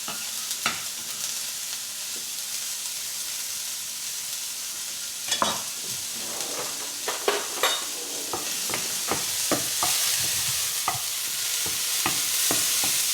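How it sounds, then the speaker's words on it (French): Vegetables sizzle steadily in a hot pan for a vegetarian burger, with sharp scraping and stirring clicks from a utensil growing more frequent toward the end, close and clear. "On les fait revenir."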